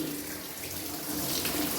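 Tap water runs steadily into a sink while pink dye is rinsed off a dog, a continuous close splashing hiss that swells slightly toward the end, with no talking.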